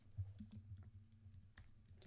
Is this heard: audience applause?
no